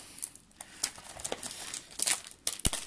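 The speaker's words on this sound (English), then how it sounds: "We're just gonna have to go with the scissors" Scissors snipping open a crinkly plastic Funko Mystery Minis pack, a few sharp cuts mixed with rustling and crackling, close up.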